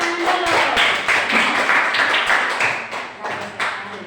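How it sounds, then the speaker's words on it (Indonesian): A classroom of students claps hands together. Dense, loud applause runs steadily for about four seconds, close and continuous. "Iya, tepuk tangan dulu."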